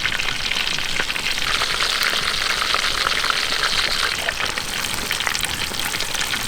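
Chicken fries in hot oil in a home kitchen, a steady loud sizzle and crackle that holds unbroken throughout, with no talk.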